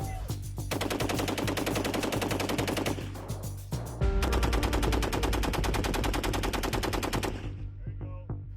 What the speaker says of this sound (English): Weapon systems qualification training is a key part of Army weapons training, designed to familiarize soldiers with the M240 machine gun.